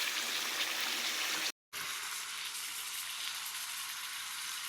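Chicken pieces dropped into spice paste already fried down in a pan for a thin chicken curry, giving a steady close hiss-and-sizzle that cuts out for a split second, then carries on evenly.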